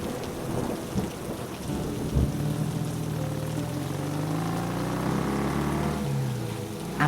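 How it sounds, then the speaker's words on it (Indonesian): Heavy rain pours down continuously in an animated cartoon scene, with a low rumble of thunder swelling underneath the steady hiss, and no voices. "Kalau hujan-hujan gini"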